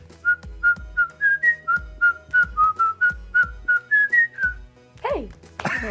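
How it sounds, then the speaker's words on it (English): A woman whistles a bouncy tune of about fifteen short, evenly spaced notes with a lilting rhythm, clear and close, followed by a brief burst of talk at the end. "I'm a really good whistler"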